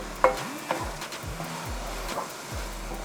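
Kimchi and okra stir-fry in a hot pan, a quiet sizzle with scattered scraping stirs and clinks of the utensil against the pan.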